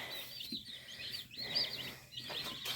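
Cornish Cross broiler chicks in a brooder under a heat plate, a steady stream of high, thin peeping chirps that rise and fall in short bursts, soft and continuous.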